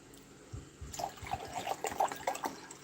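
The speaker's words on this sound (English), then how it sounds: "Excuse me as I pour hydration." A drink poured from a bottle, heard as a short run of gurgling, dripping liquid splashes over a couple of seconds, fairly close and clear, with no talking.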